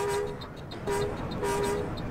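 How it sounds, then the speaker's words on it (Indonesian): A bus's speed limit warning alarm in Euro Truck Simulator 2, a Trans Jakarta bus, sounds as repeated tonal beeps in about three bursts with steady engine and road noise beneath. "Wow, alarmnya sampai bunyi ya, Mbak ya, karena ada alarm limitnya ini"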